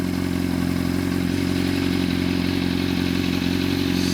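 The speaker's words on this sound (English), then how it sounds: "This pipe is not as loud as other pipes that I've heard on the same bike." A 2003 Honda CBR600RR idles with an aftermarket exhaust pipe, a steady, close, evenly pulsing burble with a bright mechanical clatter on top, no revving and no voices.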